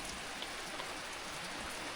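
Steady heavy rain pours down during a tropical storm in a Lao mountain valley village, a dense continuous hiss of drops on surfaces with no voices.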